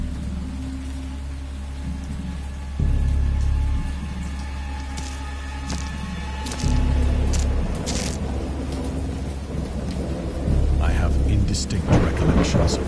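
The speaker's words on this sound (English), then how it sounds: "I know that I heard pearls of thunder and other tones which nature utters only in her wildest notes." A stormy night in the game Dagon: Complete Edition, with steady rain hiss beneath three deep, rolling rumbles of thunder that swell and fade at intervals, the last one joined by sharper crackling.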